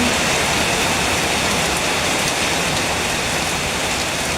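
Steady, even rain pours down through the whole stretch at an outdoor event, a dense unbroken hiss close by with no voices over it.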